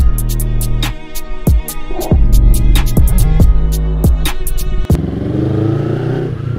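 A motorcycle engine revs repeatedly in sharp bursts after a cold start, rising and dropping in pitch, then settles into a steady, close running drone.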